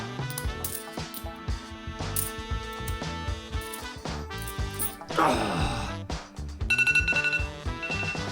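A phone alarm chimes in a repeating, bright melodic pattern, loud and close, with metallic clinking tones throughout.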